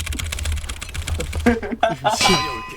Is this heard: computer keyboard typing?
yes